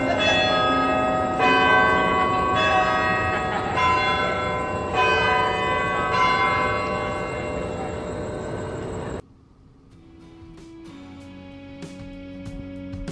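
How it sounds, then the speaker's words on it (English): The 160-foot Purdue Bell Tower at Purdue University in West Lafayette chimes loudly on the hour, ringing a run of rich, resonant bell strikes whose tones hang and overlap before the ringing drops away to quieter ambient campus sound. "That is the Purdue Bell Tower. It is 160 feet tall and chimes on the hour."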